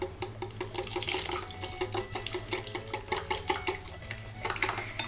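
Rum and anise alcohol mixture being poured and whisked into a 1954-style French crepe batter, a continuous wet liquid swirl with rhythmic clinking stirs against the bowl, close and fairly loud.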